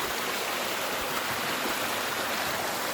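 A small waterfall pours into a mossy forest stream in a steady, broadband rush of water, close and continuous with no voices.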